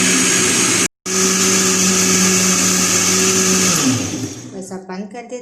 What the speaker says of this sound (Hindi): मैंने जूसर ब्लेंडर में अंगूरों को डाल दिया है और अब हम इनको ब्लेंड कर लेंगे